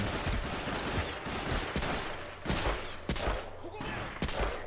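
Grenades and gunfire in Medal of Honor: Rising Sun, a rough spread of booms and sharp cracks in quick succession, several heavy blasts standing out over steady battle noise.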